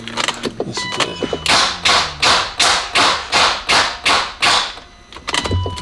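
A BMW 540i with a weak battery, on a jump box, cranking hard. The starter grinds and crunches in about nine loud, rhythmic bursts, close by, between a few scattered clicks and knocks.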